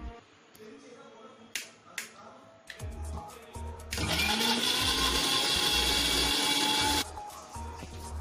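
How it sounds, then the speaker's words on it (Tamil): A kitchen mixer grinder jar blends chopped tomatoes, starting after a few clicks and taps with a loud, steady whirring roar for about three seconds before cutting off, heard close up. "இதோ இந்த மாதிரி நம்ம இதை வந்து மிக்சி ஜாரில் அரைச்சி எடுத்துக்கலாம்."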